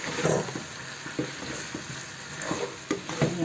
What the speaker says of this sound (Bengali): পটলটা একটু ভালোভাবে মাংসের সাথে কষিয়ে নেব একটু